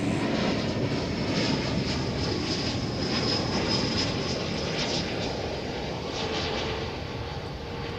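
American Airlines airliner in Allegheny heritage livery at DFW airport, a loud, steady engine roar holding close and continuous throughout, with a high whine riding on top.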